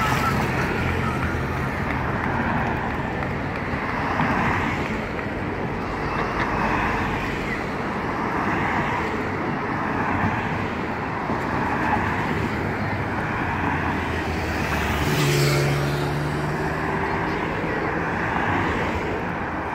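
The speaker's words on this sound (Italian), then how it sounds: "Ed ecco le macchine di servizio. Tutte le macchine delle squadre," Giro d'Italia team service cars passing in a continuous stream at Manfredonia, a steady loud roar of engines and road noise with no clear breaks between vehicles.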